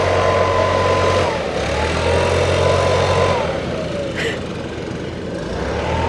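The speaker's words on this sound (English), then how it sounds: "he's taking his leaf blower and he's hitting just to make sure they're like sturdy" A leaf blower runs steadily outdoors beside inflatable holiday decorations, a loud continuous engine roar with a droning motor tone that dips slightly midway and swells again.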